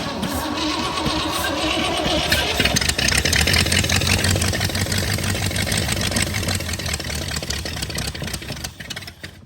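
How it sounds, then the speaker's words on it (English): A 1942 Jeep engine cranks over, catches and settles into a loud, rough, steady run at close range in a repair shop. "So now let's fire this thing up, see what it does."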